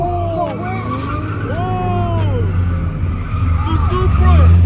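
Toyota Supra at a car meet, engine revving with tires squealing and skidding, loud and close amid crowd noise, with the roar growing toward the end and people shouting over it.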